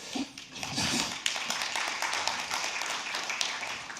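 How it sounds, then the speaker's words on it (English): Audience applause at a London tech conference session, a steady wash of clapping from a crowd lasting several seconds at moderate volume, with no talk over it. "I don't know if I really deserve the applause"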